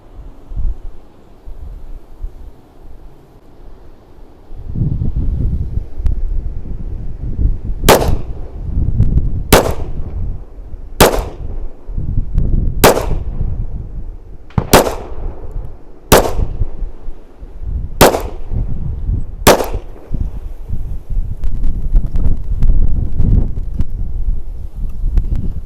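Pistol shots from TISAS and Colt 1911 .45 ACP handguns fired outdoors, about eight sharp cracks spaced a second or two apart over steady, loud wind rumble.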